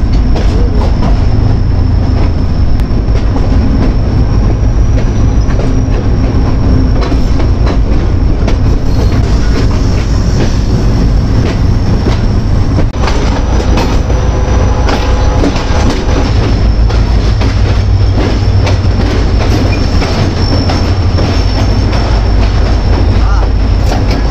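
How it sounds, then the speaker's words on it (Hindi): A Rehman Baba Express train rolls along loudly and close toward platform 2 at Rohri station, Pakistan, wheels rumbling and clattering over the rails with a high squeal running through. "जी रोडी आ गया और हमारी ट्रेन जा रही है प्लेटफॉर्म नंबर 2 की तरफ"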